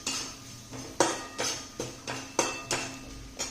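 A metal spatula scrapes and taps against a pan over and over while besan gram flour is sautéed into a spiced pea kachori filling, a steady, close, rhythmic clatter with no voice.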